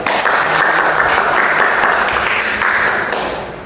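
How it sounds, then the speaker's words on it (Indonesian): Steady applause from a podcast studio audience during a sociology discussion, continuous dense clapping that holds loud throughout and tapers slightly at the end, with no talk over it. "Tepuk tangan dulu Pak."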